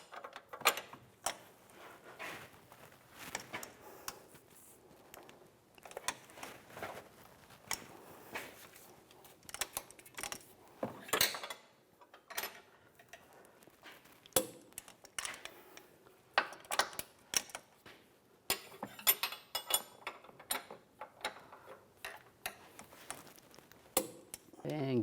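Control arm bolts on a Ford Explorer being tightened, with faint intermittent ratchet clicks and metallic tool clinks spread across a quiet stretch of work.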